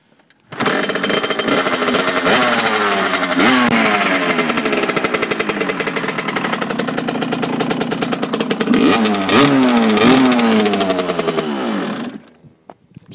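A project motorcycle with a slipping clutch fires up on a kick start and revs loudly and steadily for about twelve seconds, with rising and falling throttle blips close by before cutting off.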